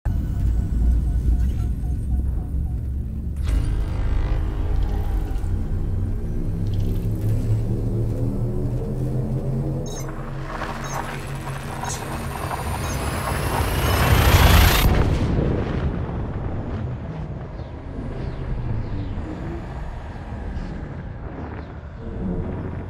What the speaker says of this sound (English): Frameshift drive.